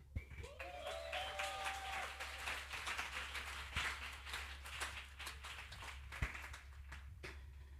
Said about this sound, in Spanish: Y recibimos con un fuerte aplauso a Ana Gabriela.